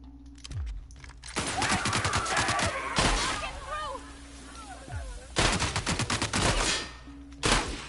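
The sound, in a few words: shotgun gunfire in the video game The Outer Worlds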